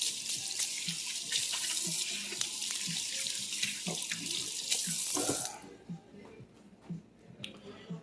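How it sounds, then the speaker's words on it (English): Kitchen tap running as hands are rinsed under it while cooking cast iron turkey parm loaves, a steady close splashing stream for several seconds before the water shuts off and faint handling noises follow. "Let me rinse my hands again."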